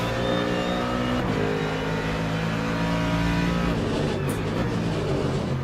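GT3 race cars lapping Sebring in Le Mans Ultimate, several engines droning and revving together in a steady, loud pack with shifting harmonic pitches and no talk.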